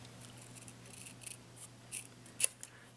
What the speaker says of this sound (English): I'm being very carefully with my scissor when I'm cutting